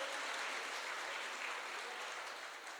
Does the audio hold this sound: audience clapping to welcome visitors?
yes